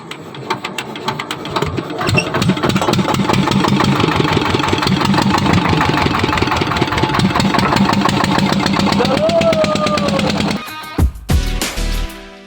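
Small boat engine on a Sundarbans river starting and then chugging steadily, a loud close rhythmic knocking that runs for about ten seconds before cutting off, with faint handling noise at the end and no talk.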